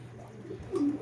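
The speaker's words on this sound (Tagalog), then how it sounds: "Ayan mga kalapatis" Racing pigeons in a loft give a brief, soft, low coo over quiet background hum.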